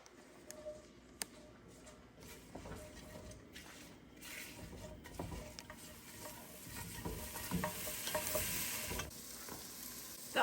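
A spoon stirs vegetable soup seasoned with salt, pepper and dried parsley, making soft scraping and swishing in the pot over a low sizzle that grows slightly louder toward the end.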